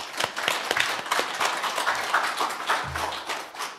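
A church congregation applauds during a Sunday service, a dense, steady patter of many hands with a few sharper claps standing out, moderately loud throughout the room.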